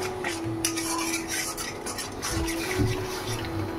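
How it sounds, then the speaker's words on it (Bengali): Chicken momo filling, seasoned with black pepper and salt, is stirred and sautéed in a pan, with a utensil scraping and rasping against the metal over a low sizzle, close up and without talk. "ভালো করে কষিয়ে নেবো"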